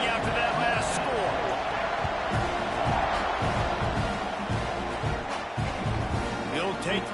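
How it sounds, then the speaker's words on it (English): Stadium crowd murmuring and cheering steadily in a College Football 26 game right after a score before the kickoff, a continuous loud roar with some thumps, with commentary talking over it throughout. "this crowd is buzzing after that last score"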